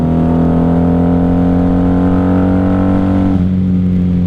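A 1994 Honda Magna V45 VF750C motorcycle engine, freshly carb-cleaned, revving loudly and up close with a strong steady harmonic growl that drops in pitch as the throttle eases near the end.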